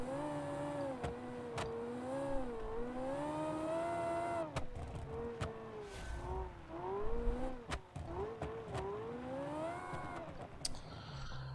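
A rally car engine in the video game Classic Rally, a 1985-season race car, drones and whines steadily with rising and falling revs as the car slides around, punctuated by sharp clicks and knocks.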